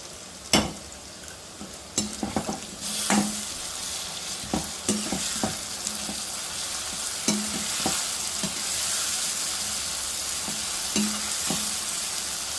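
Potatoes and spices fry in a pan, a steady close sizzle punctuated by repeated scraping stirs and spatula knocks throughout.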